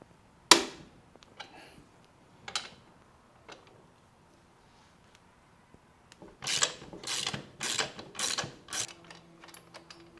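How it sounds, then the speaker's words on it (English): A socket wrench breaks loose the rear axle nut on a 2022 Honda Grom: a sharp crack, a few scattered clicks, then a quick burst of rapid ratchet clicking near the end, close and fairly quiet. "let me go ahead and break the nut loose and pull out the axle"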